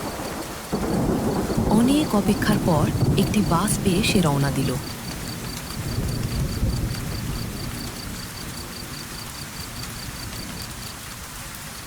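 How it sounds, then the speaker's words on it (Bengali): Torrential evening rain pours down in a steady hiss with rumbling thunder, loud at first and then easing to a softer wash, while someone narrates over it. "বাইরে তখনও মুষলধারে বৃষ্টি"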